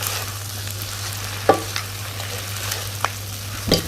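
Pad thai noodles with duck egg and bean sprouts being stir-fried in a pan: a continuous, even sizzle with a low hum, broken by a few sharp clicks of the utensil against the pan, close and alone.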